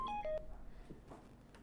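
Telephone keypad dialing tones on an office phone at a gas company complaint desk, three short stepped beeps in quick succession, clear and close, followed by faint room noise.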